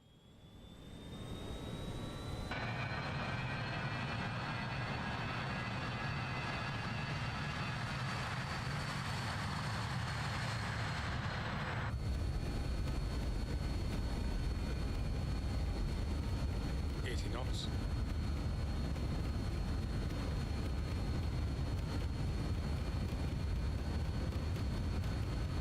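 Jet engines of an Avro RJ85 in a flight simulator spool up to takeoff power, a rising whine and roar that steps up in loudness and then holds as a steady, loud rumble, with a brief voice heard over it.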